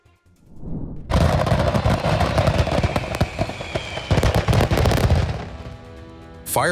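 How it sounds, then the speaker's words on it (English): Fireworks bursting on an Ocean City beach, a dense, loud volley of rapid cracks and booms going on for several seconds, with one last sharp pop near the end. "Fireworks suddenly exploded on the beach in Ocean City just hours before the 4th of July celebration."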